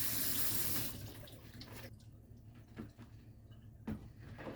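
Tap water runs into a kitchen sink while broccoli is washed, starting as a loud rush that quickly eases to a softer splashing flow with a few light knocks.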